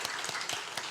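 A congregation at a church service claps in welcome, a brief burst of soft, fairly distant applause.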